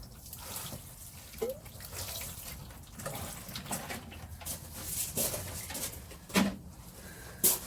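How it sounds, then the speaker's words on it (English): Water trickles and splashes steadily at close range onto newly sown petunia seeds in soil, with a few brief louder pours, and faint bird calls in the background. "Gently give them a little bit more water."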